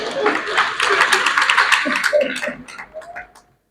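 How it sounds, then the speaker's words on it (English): An audience claps in a short, lively burst of hand claps with chuckling and voices mixed in, tapering off and fading to silence near the end. "Clap for her."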